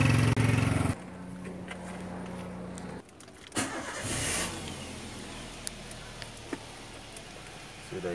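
A car engine fitted with an HHO generator cranks and fires up, a loud start followed by a steady idle with small clicks over the running motor.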